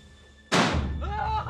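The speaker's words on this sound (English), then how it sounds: "Many villagers use fireworks to chase the elephants away." A single sharp firework bang set off by villagers to drive away wild elephants, a sudden loud blast that decays into a rumbling tail, with a faint tonal sound lingering afterward.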